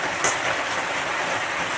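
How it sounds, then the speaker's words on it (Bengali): Steady broadband hiss of heavy rain pouring down continuously, with a brief sharper splash or clatter near the start. "বৃষ্টির আবার শুনতে পাচ্ছ বারোটা বাজে এখন জোরে বৃষ্টি নামলো"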